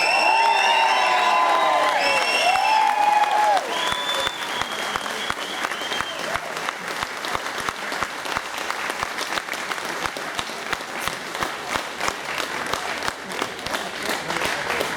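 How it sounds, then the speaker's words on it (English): A large motorsport paddock crowd at a Superbike event bursts into applause, cheers and whoops for a multiple world champion rider, starting over a voice and settling into steady clapping. "Make some noise for the multiple world champion, Carl Fogarty!"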